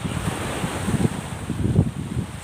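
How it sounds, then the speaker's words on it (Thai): Ocean waves wash and break on the beach at Sattahip, Thailand, a rough, continuous surf rumble with wind buffeting the microphone and no voices. "เสียงคลื่นมันสาดมันสาด"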